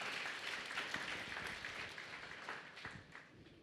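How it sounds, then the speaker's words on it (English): A church congregation claps their hands in a steady, dense patter of many hands that fills the room and stays fairly even throughout, with no talk over it. "Let's give him a good hand clap this morning."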